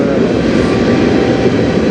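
A freight train hauling potash cars rolls past close by, a loud, steady broadband rumble and roar holding level with no break, no voices over it.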